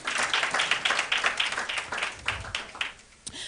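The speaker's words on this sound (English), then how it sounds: "You can give yourself a round of applause." Applause from a forum audience during a talk on brand building, a dense patter of many hands clapping for a few seconds before thinning out and fading near the end.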